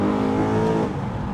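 A tuned BMW M3 E92 with a DCT gearbox revs high with a rising then falling whine, heard up close from inside the car.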